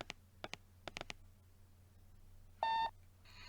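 An emergency phone in the video game Athena gives a series of short key clicks followed by a bright two-tone dialing beep and a fainter tone at the end, heard alone in a quiet scene.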